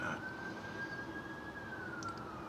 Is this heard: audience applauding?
no